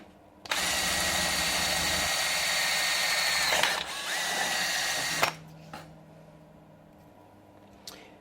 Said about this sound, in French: avec un foret de 4 mm, je perce la girelle